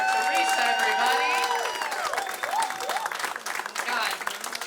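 A comedy club audience applauds and cheers for comedian Teresa, loud close clapping with whoops that gradually thins, while people talk over it.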